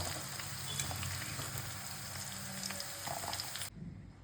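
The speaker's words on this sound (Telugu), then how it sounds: "ఈ బెండకాయ ముక్కల్ని దీంట్లో ఫ్రై చేసుకోవాలి." Okra pieces frying in oil give a faint, continuous crackling sizzle, like light rain on a surface, with scattered small pops before it cuts off abruptly near the end.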